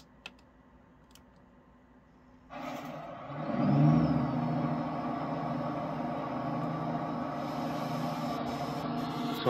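In American Truck Simulator, a truck engine starts after a few faint clicks, catching at once into a loud steady diesel drone that swells briefly and then holds a constant idle, with no talk.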